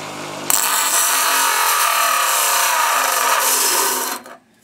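Stainless steel being ground with a power tool: a loud, steady, harsh abrasive whine that starts abruptly, holds for about four seconds and then cuts off, close and without talk.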